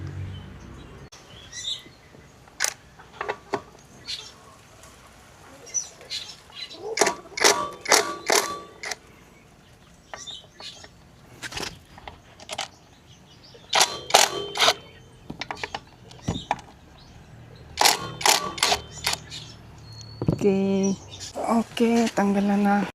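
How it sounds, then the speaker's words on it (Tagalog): A 14mm socket wrench works the exhaust bolts on an Aerox/NMAX V2 scooter, making repeated bursts of sharp ratchet clicks spaced through the stretch. Someone talks at times, and faint bird chirps sit in the background. "Gamit lang tayo ng 14mm na socket wrench."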